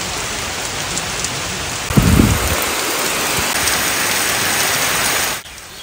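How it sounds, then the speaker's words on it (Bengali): Heavy monsoon rain pours steadily over the Sundarbans coast at Dhangmari, a dense, loud wash with a deeper rumble about a third of the way in before the downpour continues evenly and then fades abruptly at the end. "আষাঢ় শ্রাবণের বৃষ্টি একবার শুরু হলে থামতে চায় না।"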